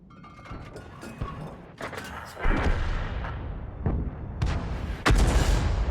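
Tank guns in a tank video game fire in a series of heavy booms, roughly half a dozen sharp blasts with rumbling decays, the later ones louder and nearer, over continuous game noise.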